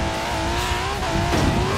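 Car engine at full throttle in Forza Horizon 4 (racing game, 'Fortnite mode' duel), a loud steady high-revving drone with rising tonal pitch, faint tire squeal underneath, continuous and alone.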